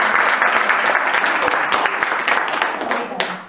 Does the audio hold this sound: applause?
yes